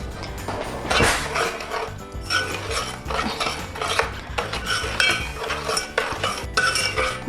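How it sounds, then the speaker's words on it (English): Candied apple mixture being stirred in a pot, metal utensil scraping and clinking against the pan in irregular bursts, close and fairly loud, with music playing underneath. "let's mix it around"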